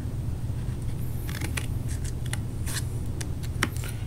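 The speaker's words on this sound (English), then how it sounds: "Just work on around, trimming out your star." Scissors trim around a paper star for a craft wand, giving a series of soft, crisp snips and paper rustles over a low steady background hum.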